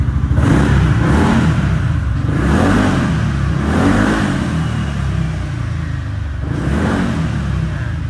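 A 2017 Yamaha Xmax scooter engine runs nearby and is revved repeatedly, its tone rising and falling in several waves over a steady idle, with no talk.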